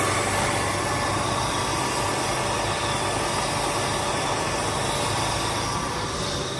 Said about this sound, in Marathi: तर इथं आपण टेल मोटर चालू करून आपण सोडायला चालू केलेलं आहे.